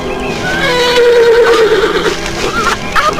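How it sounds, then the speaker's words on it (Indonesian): A horse, an audio-drama steed named Tunggul that has just knocked its rider over, whinnies loudly and angrily in one long, wavering neigh that rises and falls, close and strong, with a shuffling, hoof-like clatter underneath. "Kuda itu mengais-ngais kakinya dan sesekali meringkik keras dengan sikap yang kelihatan marah."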